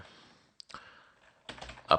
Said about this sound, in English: I'm gonna go ahead and type in